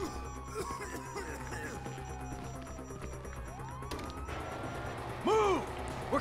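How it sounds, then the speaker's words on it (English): Police siren in the video game GTA 5, a faint wailing sweep under game noise and a voice, with a louder warbling siren burst near the end. "you hear that? Siren."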